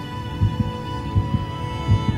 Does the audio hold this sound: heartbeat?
yes